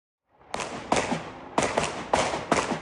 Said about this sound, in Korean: 대낮 도심 한복판에서 총소리가 요란합니다.